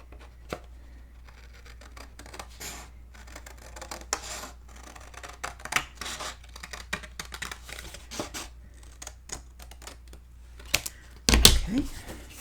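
Paper being cut by hand for a Stamperia WinterTales mini album, a series of small close snips and rustles following a curve, ending in a louder crinkling burst.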